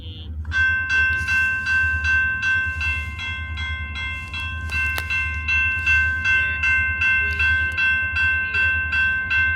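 A freight train on Oklahoma rail lines, led by an SP40 locomotive, rumbles past with a steady low engine drone and sustained tonal horn or whistle-like notes running through the whole passage.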